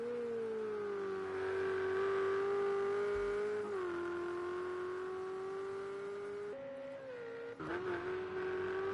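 A Ferrari race car at Circuit Zolder in the video game Project CARS 2 holds a steady, loud engine drone through a chicane, its pitch dipping and shifting with throttle and gear changes, and tire scrub near the end.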